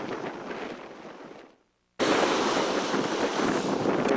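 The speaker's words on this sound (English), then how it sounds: "at our destination. Going to the waves." Ocean waves and surf roar in a loud, steady wash with strong wind buffeting the microphone, briefly cutting out to silence before the surge returns at full strength.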